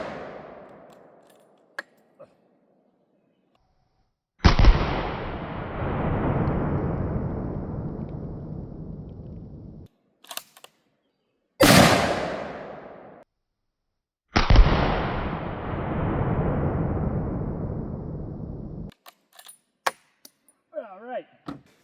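A .30-06 rifle fired with green-tipped armor-piercing rounds at a 3D-printed body armor target outdoors: three loud, sharp shots spaced several seconds apart, each with a long rolling echo, plus a few faint knocks between them.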